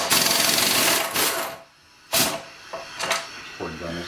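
Short bursts of an underpowered air impact gun working on the tail housing flange bolts of a Ford C6 automatic transmission from a 4x4 model, rattling in several uneven spurts with brief pauses, close by, with people talking around it.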